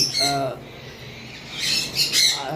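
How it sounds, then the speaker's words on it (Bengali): Caged lovebirds and cockatiels let out bursts of shrill squawks and chirps, one call near the start and a louder cluster toward the end, fairly close with a quiet gap between. "হিউজ পরিমাণ বিভিন্ন লাভ বার্ডের কালেকশন আমাদের কাছে রয়েছে"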